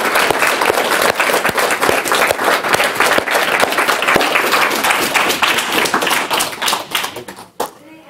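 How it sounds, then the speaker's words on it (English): Loud, dense applause from an audience at a talk on diet and climate during Oakland Veg Week, with many hands clapping steadily for about seven seconds before it thins out and stops. "please give a huge round of applause to Christy and everyone else organizing Oakl"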